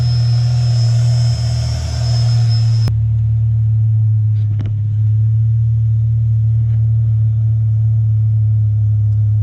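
A BMW E60 M5 engine idles after an oil change with a loud, steady low hum. A higher whine cuts off abruptly early on, leaving the even idle rumble, with a few faint clicks.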